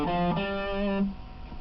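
Short distorted electric guitar lick from The Runaways' "Is It Day or Night?", a couple of quick picked notes into a held note that cuts off, close and moderately quiet, no voices.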